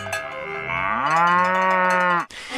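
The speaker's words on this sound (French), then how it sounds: "Il y a les vaches." Cattle on a Swiss-style farm lowing loudly, one long drawn-out moo that swells and holds before cutting off, with a faint cowbell-like clank near the start.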